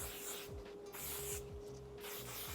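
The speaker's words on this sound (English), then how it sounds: "Do another spritz of hairspray." Hairspray spritzed onto styled hair, two or three soft hissing bursts close by, each about half a second, separated by short quiet gaps and faint handling rubs.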